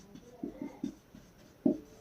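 A pen scratches on paper during a Class 10 triangle-similarity math lesson, with a few short, quiet strokes followed by a louder one near the end, all faint and close.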